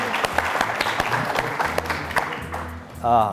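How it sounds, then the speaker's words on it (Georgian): Audience applause at a student televised book competition fills the room, a dense wash of clapping that carries steadily throughout, with a brief swell near the end. "აპლოდისმენტები კიდევ ერთხელ Free Jeffery-ს."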